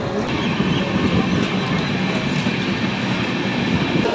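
A passenger train runs steadily toward Durgapur station on the Kolkata to Ayodhya route, with continuous loud rumbling and rattling of the carriages heard close from inside the train.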